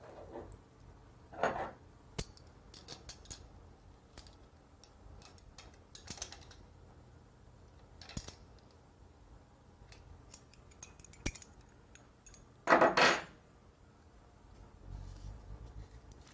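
Air conditioning compressor bolts being tightened with a hand tool: scattered metallic clicks and ticks, then a brief louder rattle of ratcheting, close and otherwise quiet.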